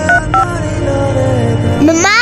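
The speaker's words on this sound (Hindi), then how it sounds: "मम्मा का फोन करो" A phone is dialed in a home setting to call a mother, with a run of short electronic keypad beeps followed by a rising ring-like tone, loud and close.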